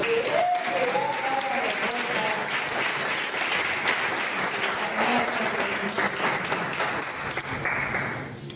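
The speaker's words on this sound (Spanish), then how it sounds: "Mira un fuerte aplauso a Él." A church congregation giving strong applause during a worship service; sustained, dense clapping from many people, with a voice over it early on and a tone in the background.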